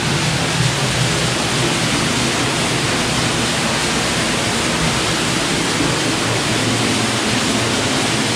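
Water rushes steadily past a jammed water wheel in a stream, a dense, continuous broadband roar that stays close and loud throughout with no pauses.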